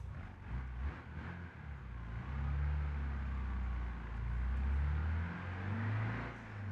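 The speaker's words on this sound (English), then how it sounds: "I am flooring it right now in third gear." A Volkswagen Brasilia in BeamNG.drive floored in third gear, its engine droning steadily and rising gradually in pitch as it accelerates, close and continuous with no talking.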